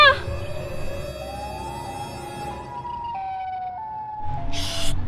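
A wailing siren from the Siren Head creature, a long rising and falling electronic tone held steadily for several seconds, loud and close, ending in a brief burst of noise.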